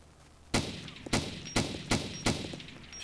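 Video game gunfire in an online shooter: five loud, sharp shots at uneven intervals about half a second apart, each with a brief echoing tail, with no talk over them.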